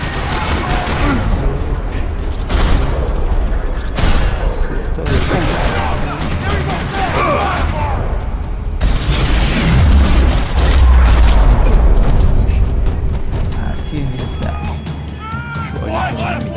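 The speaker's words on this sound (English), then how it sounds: "Another parking lot rattling with gunfire." Video game gunfire from Max Payne: bursts of rapid gunfire rattle continuously with heavy booms and explosions in a parking lot, a dense, loud battle soundscape with voices occasionally underneath.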